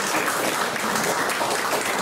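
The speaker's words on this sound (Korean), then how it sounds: "박수 부탁드립니다." Applause from the gathered crowd at a Democratic Party candidate's campaign-launch press conference in Jeju, a steady dense patter of many hands clapping throughout, with no speech over it.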